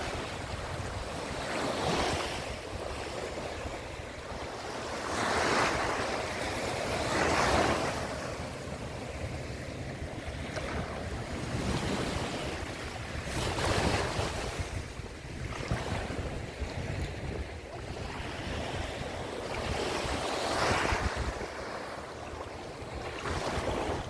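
Sea waves wash onto a beach at Playa del Carmen, Mexico, a steady roar of surf with several swelling surges, mixed with wind buffeting the microphone.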